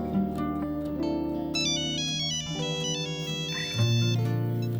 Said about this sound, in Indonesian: Sekarang kita coba telepon dia ya.